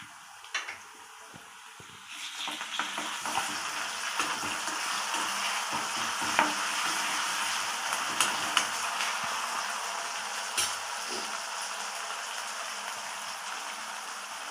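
Onions fry in a pan for a Telangana-style chicken fry, a steady close sizzle with crackles, brief scrapes and clinks of stirring throughout, no talk.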